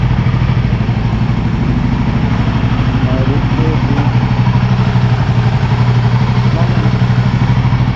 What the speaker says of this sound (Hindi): जो हैंडल का बॉल रेजर है ना गाइस, वो लूज़ हो रखा है, तो उसके चलते वो जो नॉइज़ प्रोड्यूस हो रहा है इरिटेटिंग